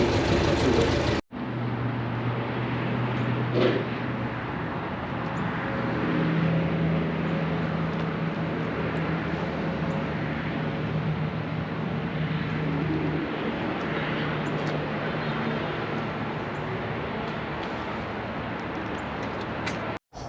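A 1916 Ford Model T Touring car on a test drive, its engine droning steadily with road and wind rumble throughout, recorded close from inside the car with no talking.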